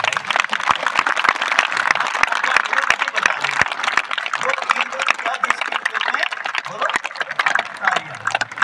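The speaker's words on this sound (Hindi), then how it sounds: "देखो तालियां जो ना जोरदार बजनी चाहिए" A group in a yoga class claps hard in a steady, rhythmic beat during devotional chanting, with sharp, evenly spaced claps under loud voices and a busy crowd texture.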